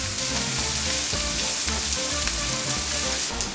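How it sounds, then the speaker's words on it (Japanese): Curry powder stir-fried in a pan for a summer-vegetable dry curry, a loud, steady sizzle with scraping stir noises throughout. "カレー粉を入れたら再び炒める。"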